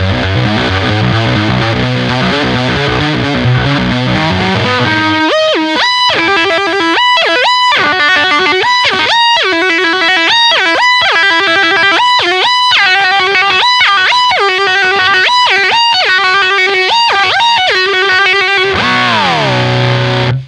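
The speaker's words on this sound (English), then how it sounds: "relying on the big muff for the kind of hammer-on pull-off section and more of the overdrive distortion pedal for the whammy section" An electric guitar plays through a Big Muff fuzz and an overdrive distortion pedal on a solo, with thick sustained notes, then rapid choppy hammer-on and pull-off bursts and a closing whammy-bar dive, loud and alone.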